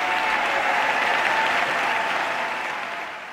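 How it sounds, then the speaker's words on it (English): Massive audience applause for a talk on equal pay, a dense, steady roar of clapping that holds strong throughout and tapers slightly at the end. "Massive applause."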